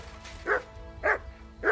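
A dog in Kingdom Come: Deliverance II barks three times in a steady rhythm, each bark fairly close and clear over a quiet background.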